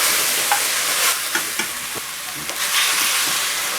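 Mutton curry is stirred in a pot over sizzling heat, a spoon scraping and clacking against the pot a few times through a steady, close frying hiss.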